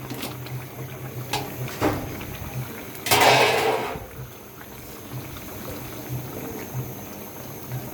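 A pot of tengra fish curry with eggplant, potato and tomato bubbles at a low simmer. A louder splash-like burst of bubbling swells midway, then settles back to a soft, constant boil.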